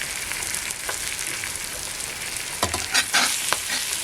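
River fish frying on a hot griddle set over glowing wood embers on a Konkan clay stove, a steady close sizzle with a few sharper crackles and pops near the end, no talking.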